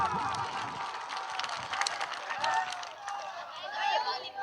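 A big crowd at a Hindu organisation rally in Chotpur breaks into dense applause. The clapping is loud and steady throughout, with voices mixed in.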